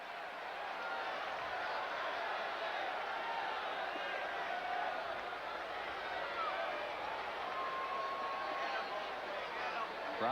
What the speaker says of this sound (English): Crowd here at Fenway certainly in the mood to celebrate tonight